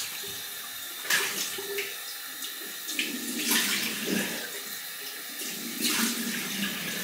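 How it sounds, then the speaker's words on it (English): Cold water runs from a tap into a sink for rinsing a shaving brush, a steady close splashing flow with a few louder bursts as the stream is disturbed. "Cold water rinse."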